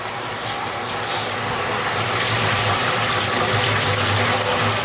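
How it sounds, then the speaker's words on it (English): Water sprays steadily over a Weber Q 2400 electric grill outdoors on grass, a loud unbroken hissing rush that holds level for several seconds with no talking. "So you want to just rinse it so that all the easy stuff comes off."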